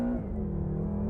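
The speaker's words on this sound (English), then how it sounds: "we'll do a quick wide open throttle run" A 2013 BMW M5 at wide open throttle gives a loud, close, steady engine drone with a slowly rising tone, heard alone for about a second.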